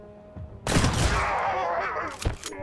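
Gunfire in the video game Mutant Year Zero: Road to Eden, a sudden loud burst with a sustained rumbling tail, then a second sharper report near the end.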